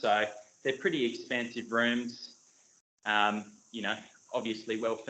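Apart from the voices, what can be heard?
No everyday noises stand out.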